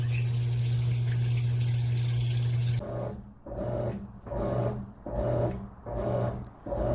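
A steady rushing water roar gives way to a Whirlpool 4.7 cu ft top-load washer with removable agitator on a deep-water wash cycle, rhythmic sloshing surges pulsing about once a second, close and continuous.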